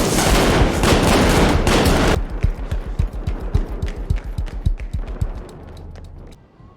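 Machine gun fire from the war film Dunkirk: a dense roar of gunfire, then a rapid string of loud, evenly spaced shots that slows and fades toward the end.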